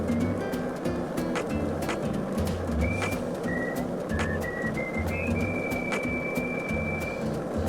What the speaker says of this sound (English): Oh, that's my phone alarm.